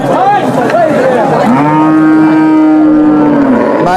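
Australian cross bulls at a farm moo loudly and close by, one long sustained bellow after shorter grunting calls, with no talking.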